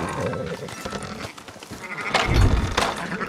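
Sheep bleating in the open-world western game Red Dead Redemption 2, a few close, loud bleats among farm-animal ambience, with a strong burst near the end.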